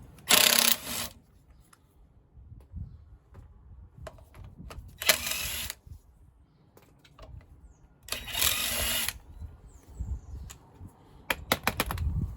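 A power tool whirs in three short loud bursts as it spins off the rear wheel nuts of a Ford Fiesta Mk6 raised on an axle stand, with quieter clanks and clicks between the bursts.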